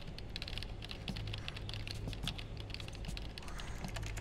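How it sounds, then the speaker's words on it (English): Rapid keyboard typing from a Metal Gear Solid 4 video game cutscene, a steady flurry of quick key clicks over a low background hum with no voices. "cinematic typing. Hacker man. Keyboard."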